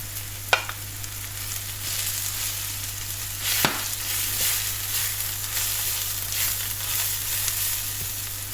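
Carrots fry in a pan with a steady, close sizzle throughout, a couple of sharp utensil clinks breaking in near the start and middle.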